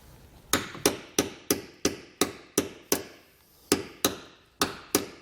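A hammer strikes a hole punch tool to mark bolt holes for mounting an air compressor, about a dozen sharp metallic blows in a fairly even rhythm with short pauses, close and loud.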